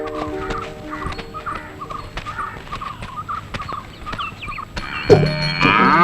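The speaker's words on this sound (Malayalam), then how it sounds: "തോമസുട്ടി, ദേ പശുവിനെ ചോട്ടിക്കാൻ ആൾ വന്നു." Rural farmyard sounds with repeated short calls from a cow being led along, over background clatter and rustling, ending in a louder burst of noise.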